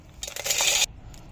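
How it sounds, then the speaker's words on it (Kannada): Roasted peanuts poured into a mixer jar for peanut chutney powder make a brief dry rattling rush of hard kernels against the jar, loud for about half a second, then stopping abruptly. "ಈಗ ಒಂದು ಮಿಕ್ಸಿ ಜಾರ್ಗೆ ಹುರಿದಿಟ್ಕೊಂಡಿರೋಂಥ ಕಡಲೆಕಾಯಿ ಬೀಜ,"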